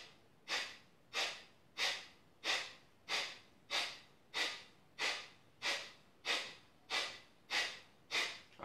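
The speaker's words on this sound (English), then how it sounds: "And you exhale out the nose." Steady nasal exhales during a yoga practice for back pain, about a dozen soft airy breaths in an even rhythm, each rising quickly and tapering off, close and quiet with no talking.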